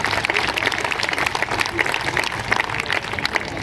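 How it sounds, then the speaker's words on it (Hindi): An audience at a Hindi comic poetry gathering (kavi sammelan) gives dense, continuous applause that fills a few seconds. "एक बार मुझे भी तालियों से स्वीकृति दे दीजिए"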